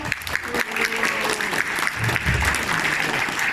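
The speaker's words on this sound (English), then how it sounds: "So I want to give you all a round of applause right now." An audience at Bronycon 2019, a fan convention, gives a full round of applause: steady, dense clapping that fills the room at a moderate level for a few seconds.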